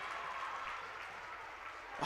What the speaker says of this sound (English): Valent, the crowd getting loud